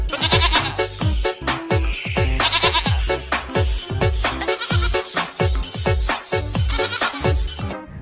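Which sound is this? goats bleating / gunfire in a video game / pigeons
goats bleating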